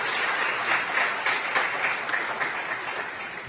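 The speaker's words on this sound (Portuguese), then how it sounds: "Você pode aplaudir ao Senhor?" A church congregation applauds during a Portuguese-language sermon, a dense, steady wash of many hands clapping together that holds at an even level for several seconds.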